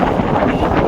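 Strong wind buffets the microphone aboard a small fishing boat at sea in heavy swell, a steady loud rush with no speech over it.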